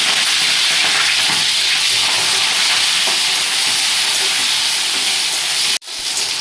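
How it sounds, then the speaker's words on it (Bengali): Chopped onions fry in hot oil with nigella seeds for a cauliflower-stem chorchori, giving a loud, close, continuous sizzle that cuts out abruptly near the end and then resumes. "পেঁয়াজগুলোকে হালকা লাল করে ভাজছি।"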